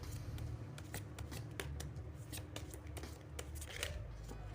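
Large tarot fortune-telling cards shuffled by hand, a rapid series of close, crisp riffling snaps and slides.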